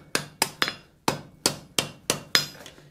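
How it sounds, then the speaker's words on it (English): A blacksmith's hammer strikes a forge-welded collar on a piece hung over the edge of an anvil, eight sharp, close ringing blows in a steady rhythm with brief pauses, no talking. "we're hanging it over the edge of the anvil, and we're hitting on the collar to try to center everything back up"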